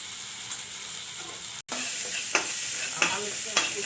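Paneer pieces fry in masala in a pan with a steady, close sizzle. The sizzle drops out briefly, then comes back with occasional scraping stir strokes.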